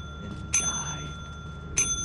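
Two sharp bell dings ring out about a second apart in the video game Lethal Company, each bright and clear with a short ringing tail over faint background noise.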